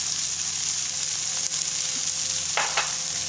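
Tomato and green chili sizzle steadily in a hot frying pan for quasadilla filling, a dense close frying hiss throughout with a couple of brief stirring scrapes near the end.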